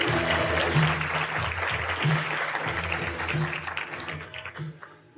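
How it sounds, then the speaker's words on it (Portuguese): An audience claps to welcome a speaker at a workshop talk, a steady wash of applause that fades out toward the end. "Recebemos o Dr. Milton com uma salva de palmas."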